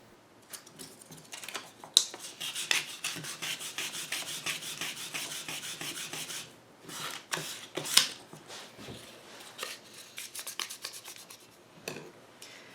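Steady scratchy rubbing strokes of 1,000-grit sandpaper wet sanding a Damascus steel knife blade, close and fairly quiet, in an irregular back-and-forth rhythm with brief pauses.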